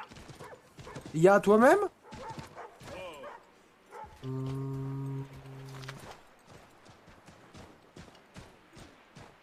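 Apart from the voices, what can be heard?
horse clip-clopping in the video game Assassin's Creed III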